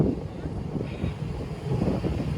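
Sea wind blows steadily across a ship moored at an old dock at dusk, a continuous low, rumbling gust with soft swells in strength and no distinct events.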